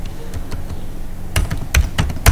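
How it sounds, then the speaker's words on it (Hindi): Short bursts of typing on a computer keyboard while entering a name in a programming editor, a few close clicks and clusters of keystrokes alone without talk. "मैं अपना नाम टाइप कर देता हूं"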